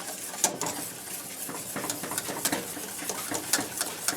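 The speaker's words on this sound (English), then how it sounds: "And we just keep stirring this." A pork butt mixture is stirred in a pot with a spoon, giving repeated close scraping and light metallic clinks in an uneven rhythm, with no talking.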